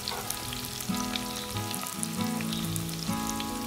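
Red onion, garlic, curry leaves, green chillies and a pandan piece crackle in hot oil for a freshwater fish curry, a steady bright sizzle with scattered pops and a few soft stirring scrapes, close and without speech.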